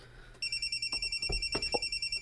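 A cellphone rings with a rapid pulsing electronic trill that starts abruptly and repeats steadily, close and moderately loud, while faint rustling and knocks sound underneath.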